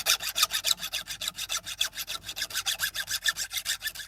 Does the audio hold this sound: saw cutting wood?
yes